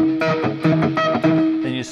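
Bright, ringing electric guitar harmonics alternate with sharp percussive slaps in a quick, repeating pattern, played close and clear with no voices.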